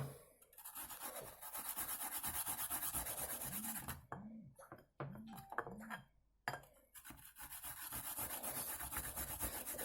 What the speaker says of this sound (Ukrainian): На мілку тертушку, акуратненько, щоб не потерти пальців.